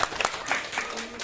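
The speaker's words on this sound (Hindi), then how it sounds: "एक बार ताली बजा करके इनके लिए उत्साह प्रदान करें।" An audience at a Hindu religious gathering, a Tulsi-Shaligram wedding ceremony and Bhagavat katha, breaks into brief applause: a short burst of clapping from many hands, fairly close and lively, fading within about a second.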